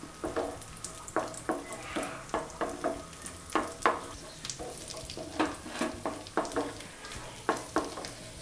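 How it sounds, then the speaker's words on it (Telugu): Cashews and raisins fry in ghee in a pan for rava laddu, a soft steady sizzle broken by regular scraping stirs of a spoon, close and fairly quiet. "దానిలో కిస్మిస్ వేసి వేయించుకోవాలి"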